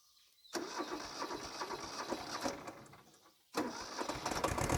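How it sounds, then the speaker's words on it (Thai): An old Japanese 4x4 tractor's diesel engine cranks and catches twice, each time rumbling roughly with a clattering mechanical rattle, separated by a short pause of near silence. "ก็เดี๋ยวมาสตาร์ทกันนะเผาหัวกันนะครับเหยียบคลัตช์นะ แล้วก็สตาร์ทเร่งเครื่อง"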